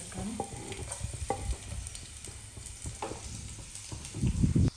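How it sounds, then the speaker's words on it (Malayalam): Sliced garlic fries in hot coconut oil in a pan, a close, steady sizzle broken by scraping stirs and light utensil taps, growing louder and busier toward the end. "വെളിച്ചെണ്ണ ചൂടായി കഴിയുമ്പോൾ അതിലേക്ക് നമ്മൾ ആദ്യം വെളുത്തുള്ളി വട്ടത്തിന് അരിഞ്ഞ് ചേർക്കണം"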